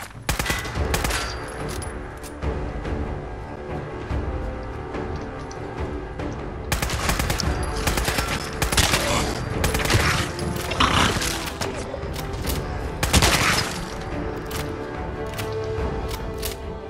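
Gunfire in the modded video game Fallout 4 during a fight to liberate the castle, with sustained automatic bursts and rapid volleys filling most of the stretch, loud and dense with no talking.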